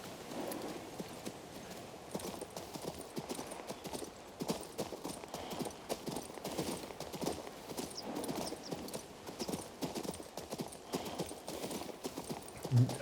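Horse hooves clip-clopping in the video game King's Bounty II, a steady rhythmic trot of moderate loudness with faint ambient background.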